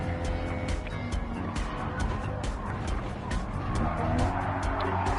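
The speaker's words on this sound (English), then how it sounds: "So this is called the drift." Racing game car drifting through a corner at the Nurburgring, a continuous engine roar with tire squeal and skidding, loud and sustained throughout.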